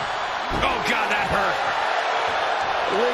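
A loud, dense crowd roar in the video game WWE 2K24 during a wrestling match fills the scene, with an excited commentator's voice talking over it throughout.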